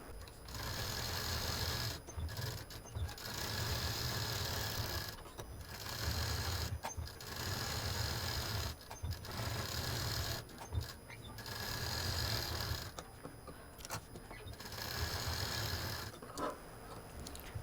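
A domestic sewing machine stitches white thread on blue fabric for a cap-style face mask, running in steady whirring bursts of a second or two, broken by short pauses, close and fairly loud.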